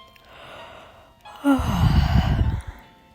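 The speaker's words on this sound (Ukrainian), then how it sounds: "Трактор Тарасик позіхає і починає втомлюватись" A tractor character in a bedtime story gives a long, audible yawn, with a soft breathy intake that swells into a drawn-out vocal sigh lasting about a second and a half before trailing off.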